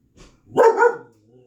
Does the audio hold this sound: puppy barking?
yes